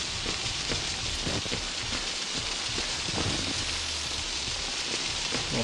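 Steady rain falls in the Outlast horror video game, a dense continuous hiss with scattered low thuds and rumbles, even in level throughout and with no voices.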